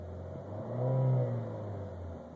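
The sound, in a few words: car turbocharger while revving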